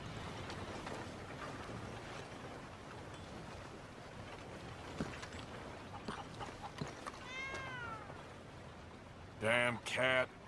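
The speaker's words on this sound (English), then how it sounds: "Damn cat." Inside a Red Dead Redemption 2 setting, a cat meows several times over a low, murmuring ambient background. There is a faint mewl partway through, then two louder, clearer meows close together at the end.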